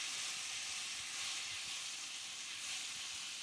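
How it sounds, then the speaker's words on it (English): Butter sizzles in a frying pan with a soft, steady, high hiss, faint and continuous throughout with no other sounds. "The butter in the pan."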